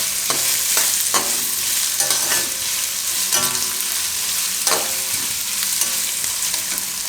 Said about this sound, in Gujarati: તો થોડીક વાર એને ફેરવીને પછી આપણે કેપ્સિકમ નાખી દઉં